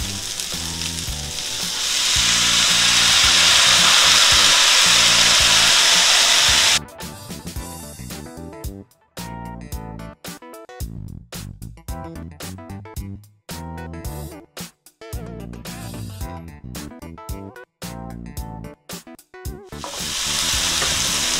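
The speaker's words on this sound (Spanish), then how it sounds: "Ahora le voy a agregar la salsa." Shrimp chow mein with Chinese cabbage sizzles loudly in a hot pan as sauce goes in, a steady fry hiss that turns into choppy stirring and tossing bursts, close and without voices.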